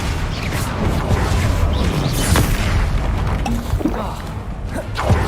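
Heavy booming blasts from fire-based Confringo explosion spells in the Hogwarts Legacy video game, loud and dense, rumbling continuously with crashing bursts layered through the fight.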